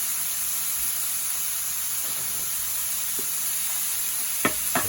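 Ground beef browns in a pan for a tater tot casserole, giving a loud steady sizzle and hiss throughout, with a few sharp knocks of a utensil stirring near the end.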